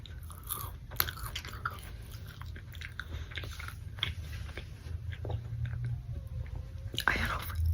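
Raising Cane's chicken is bitten and chewed close to the mic in a quiet ASMR setting, with soft, steady crunching and moist mouth sounds at low volume.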